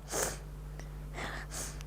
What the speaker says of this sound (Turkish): Arada bir böyle burnumu çekme sesleri çıkabilir.